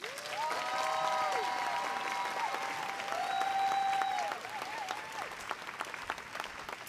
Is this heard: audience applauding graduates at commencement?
yes